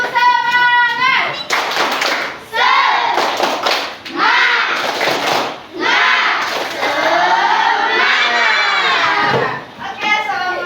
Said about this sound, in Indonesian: Sebelumnya kita pulang, kita tepuk semangat yuk.